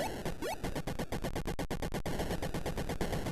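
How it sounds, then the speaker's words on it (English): Rapid, steady electronic shooting and buzzing bleeps from the Atari 2600 game Space Invaders, a dense repeating pulse train running continuously and loudly with no talk over it. "stop shooting at me, and maybe I can shoot you"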